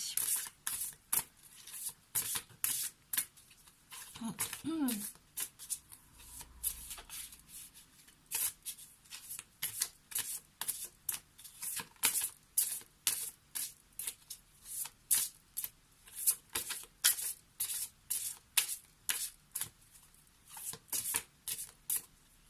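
An oracle deck of cards is shuffled by hand again and again, giving a close, papery riffle of quick rustling bursts in a loose, steady rhythm, with a brief faint voice early on.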